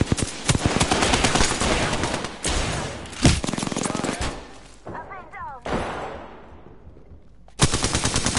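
Rapid automatic gunfire rattles through a firefight in the video game Apex Legends, with dense bursts, sharp single shots and brief lulls, loud and close.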